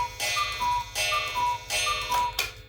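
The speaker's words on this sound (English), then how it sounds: "Just wait for the cuckoo clock to finish." A cuckoo clock repeats its call several times in a steady rhythm, each phrase opening with a bright strike followed by two softer descending tones, ticking underneath, close and fairly loud, no talking.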